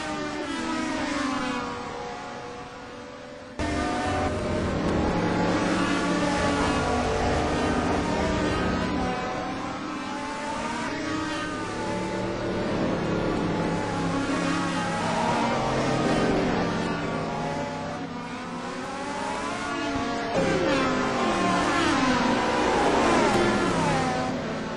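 Touring cars racing through the corners and chicane at Donington Park in the ETC Black Cup, engines roaring loudly and continuously as a pack, with shifting pitch and a brief dip before the noise surges back.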